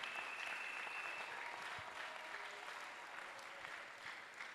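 A congregation claps during a French and English church praise and worship service, a sustained, even roar of many hands applauding in a hall, moderately distant and steady throughout without speech.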